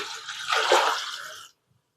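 Water is poured from a pot into a wide kadai to cook rice, a close and steady splashing that swells midway, then stops abruptly after about a second and a half.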